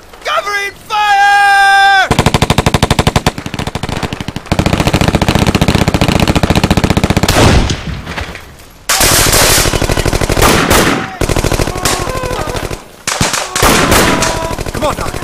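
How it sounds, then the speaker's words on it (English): Machine guns lay down sustained covering fire in a WWII war movie battle scene, loud close bursts of rapid automatic shots with brief gaps, mixed with shouting voices. "Give the lieutenant some cover! Covering fire!"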